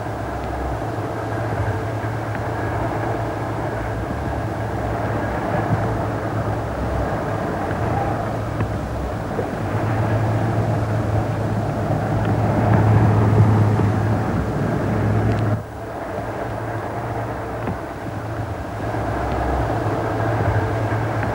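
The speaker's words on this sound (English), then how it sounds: "Junction Road Halt was about to receive its last train." The last train arriving at Junction Road Halt, a steady heavy rumble with low engine drone that swells toward the middle and drops off sharply near the end, heard alone without talk.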